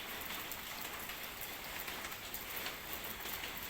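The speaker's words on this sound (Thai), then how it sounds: "ฝนตกมันแฉะ" Rain falls steadily on a rural home garden, a constant even hiss of drops with no breaks and no talk.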